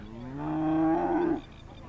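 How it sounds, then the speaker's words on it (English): A single long, deep cattle moo swells and holds for about a second before cutting off, fairly close and loud. "Terry's talking cows with Auntie Sue over here."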